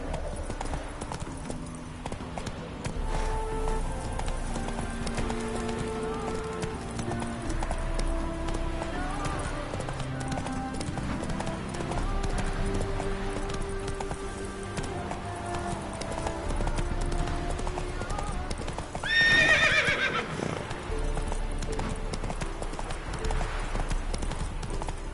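A horse's hooves clip-clop at a quick, steady gallop in The Witcher 3, running under in-game music and a voice speaking, with a brief louder burst near the end.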